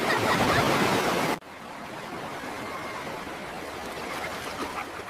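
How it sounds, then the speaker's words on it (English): Ocean waves on a summer swim day break in a loud rushing burst that drops off abruptly, then settle into a steadier, softer wash of surf. "Here come the waves."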